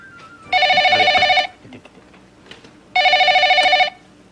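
A telephone rings in two loud electronic bursts about a second each, separated by a pause, with faint background movement between rings.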